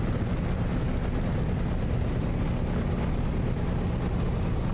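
A Cessna 195 engine runs in Microsoft Flight Simulator, making a steady, loud, low rumbling drone that holds even throughout with no pauses.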